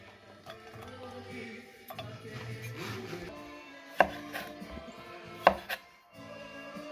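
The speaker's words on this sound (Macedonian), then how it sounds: "come li tagli Goran questi pomodori?" A knife chops fresh tomatoes on a board in a home kitchen, giving irregular close thuds and taps with a couple of sharp louder knocks, plus light rustling between cuts.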